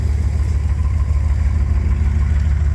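A 1997 Dodge Ram 1500 engine runs close by while it is shifted through its gears, giving a steady, loud, low idle rumble with no talk.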